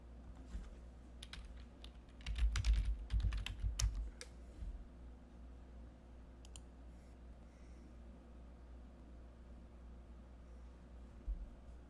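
Bursts of key clicks from a computer keyboard as a username and password are entered, a dense flurry of typing in the first few seconds, then scattered isolated taps over a quiet background hum.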